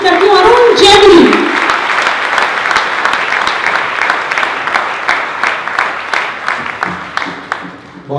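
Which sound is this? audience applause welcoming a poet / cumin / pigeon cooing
audience applause welcoming a poet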